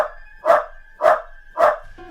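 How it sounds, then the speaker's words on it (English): Several dogs bark hard and close in a steady rhythm, four sharp loud barks about half a second apart, with no other sound between them. "My dogs went wild, barking."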